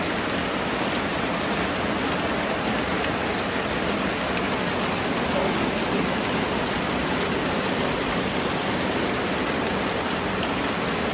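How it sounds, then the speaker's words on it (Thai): Steady rain falls throughout, a dense, even hiss of drops on surfaces with no voices, constant and fairly loud from start to finish. "นี่ก็วันฝนตกนะครับผมฝนตก"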